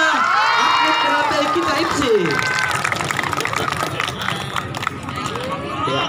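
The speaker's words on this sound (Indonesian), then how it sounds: "Kita beri aplaus kepada" Audience breaking into applause at a martial arts pencak silat event, dense clapping and some cheering rising after an announcer's voice over a loudspeaker.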